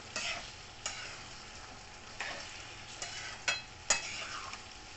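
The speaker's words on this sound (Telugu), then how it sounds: "చూసారా ఇలా నూనెలో వేసేసుకోవాలన్నమాట నూనెలో వేసి మనం ఫ్రై చేసుకోవడమే" Raw mango pieces fry in oil for a Telangana jaggery mango pickle, a soft continuous sizzle broken by several sharp scraping stirs of a spoon in the pan, close and fairly quiet with no voices.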